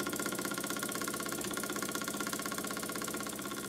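A Burnac Vulcan model steam engine runs under test with a wet, over-full boiler, giving a steady, dense mechanical chugging and hiss at close range, continuous and evenly pulsing throughout with no talk.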